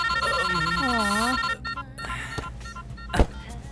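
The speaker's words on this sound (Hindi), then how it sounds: "अभी कौन फोन कर रहा है?" A phone ringtone chirps in warbling, repeating electronic tones for about a second and a half, then stops, leaving quiet room sounds and a sharp knock near the end.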